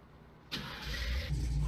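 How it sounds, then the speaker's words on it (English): A big Ford Bronco V8 cranks over and fires up in a farming simulator game, a sudden loud start settling into a deep, steady rumbling idle, close and alone. "Get that big V8 running."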